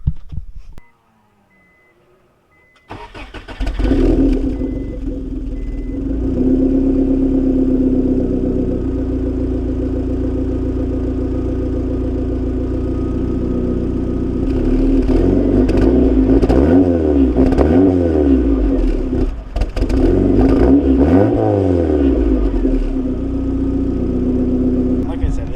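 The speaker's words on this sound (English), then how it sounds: "you can kind of hear the turbo under the exhaust" Turbocharged B18 engine in an Integra starts after a short silence, then idles steadily and revs up and down several times, with a faint turbo whine under the exhaust, loud and close.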